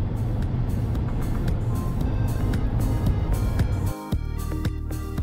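A rental car cruises along wide roads around Sun City, giving a steady road and engine hum with tyre noise, a brief dip near the end, then a lighter, clicking texture.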